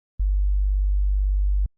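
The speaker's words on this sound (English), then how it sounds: "if it was just a sine wave" A pure sine-wave bass tone, very low and smooth, holds steady for about a second and a half with clean starts and stops and nothing else around it.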